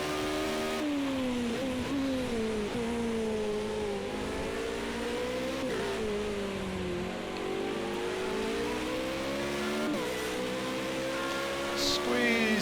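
Formula Renault 3.5 open-wheel race car in Project CARS 2, its engine droning steadily at high revs with rising pitch sweeps as gears change, loud and continuous throughout.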